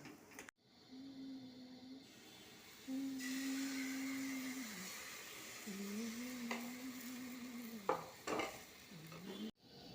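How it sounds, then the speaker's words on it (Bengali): Grated coconut and jaggery are stirred in a wok to make a sweet filling for patisapta pitha, with steady soft sizzling and drawn-out squeaky scraping strokes of the spoon against the pan, close by. "দিদি এখন নারকেলের পুরটা তৈরি করে নিচ্ছে, কড়াইতে নারকেলটাকে ভালো করে গুড় দিয়ে পুরটা বানিয়ে নিচ্ছে"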